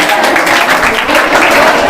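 A quiz-show audience at a science academy in Yavatmal bursts into dense, loud, continuous applause that fills the whole moment.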